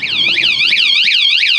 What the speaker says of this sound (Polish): jak wejdzie, otworzy drzwi, to jest głośno. Są różne syreny.